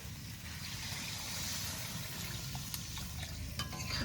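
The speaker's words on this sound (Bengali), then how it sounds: "মশলা দিয়ে কষানো হয়ে গেছে এরপরে জল দিয়ে দেব" Water poured into spiced masala frying in a pan for a thin potato and catla fish curry, a low sizzling, bubbling wash with a few sharp clinks and splashes near the end.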